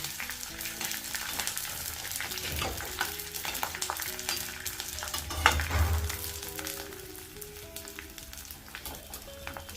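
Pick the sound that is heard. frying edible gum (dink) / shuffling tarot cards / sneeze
frying edible gum (dink)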